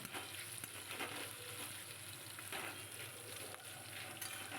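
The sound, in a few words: stirring and frying taro leaves with hilsa using a spatula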